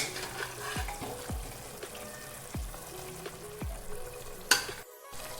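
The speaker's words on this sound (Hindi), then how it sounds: "अब हम इसमें हमारे चाप के पीस जो हमने गला लिए थे यखनी के साथ डालने लगे हैं और इसे भी हम बहुत ही अच्छी तरह से भूनेंगे" Tender beef chop pieces fry in masala with stock, making a low bubbling sizzle broken by several spoon knocks and stirs, ending in a sharper clatter and a brief dropout.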